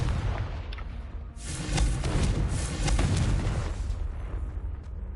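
A Confringo fire-blast spell cast in Hogwarts Legacy, a loud booming explosive burst that swells and rumbles over several seconds amid busy game noise.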